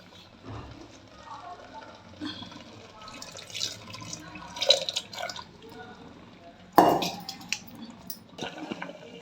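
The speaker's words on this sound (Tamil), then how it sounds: "இப்போ கொதிக்குது" Liquid bubbles and gurgles in a pot of lentil payasam, with irregular splashy pops, while a person talks over it.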